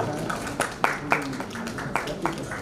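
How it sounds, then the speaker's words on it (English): Scattered hand clapping from an audience at a sustainability summit in New Delhi, a handful of sharp claps spread across the moment, moderately close and without sustained applause. "Can we give a great round of applause,"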